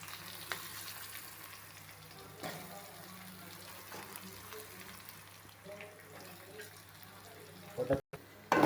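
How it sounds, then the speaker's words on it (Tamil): Whole spices, onion, green chillies and curry leaves fry in hot oil for a vegetable kurma, making a soft, steady sizzle at low volume with a brief clatter near the end. "எண்ணெய் ஊற்றியாச்சு, எண்ணெய் காஞ்சிருச்சு. ஸ்பைசஸ் போட்டுக்கலாம்."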